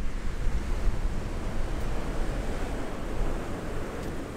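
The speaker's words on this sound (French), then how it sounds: "Oh, les vagues impressionnantes." Ocean waves crash and surge along the coast at Nusa Lembongan, a constant heavy roar of surf mixed with wind buffeting the microphone, with no voices.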